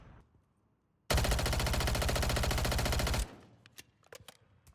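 Striker 9 submachine gun in Modern Warfare III, firing one sustained full-auto burst of about two seconds, loud, rapid and continuous, then cutting off to faint clicks and handling noise.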